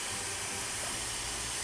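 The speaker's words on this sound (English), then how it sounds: "We use freeze spray." Freeze spray hisses steadily on an ice carving in a cold chainsaw-carving setting, giving a loud, continuous, airy spray noise that holds without a break.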